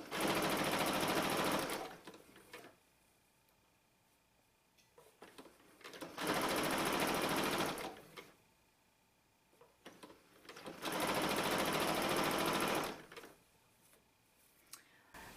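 A sewing machine stitches denim for a blue jeans purse in three separate bursts of fast, steady whirring. Each burst lasts about two seconds, with quiet gaps between them while the fabric is repositioned.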